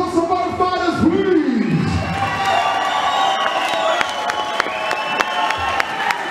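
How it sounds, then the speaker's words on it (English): A crowd at a fight event claps and cheers in a large room, applause building and holding steady, with a voice speaking over the noise. "what about round of applause for my fighters"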